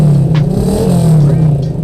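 A motorcycle fitted with an adjustable dB killer exhaust set to its quietest silent mode revs up close, a muffled engine note rising and falling steadily, with a voice speaking over it.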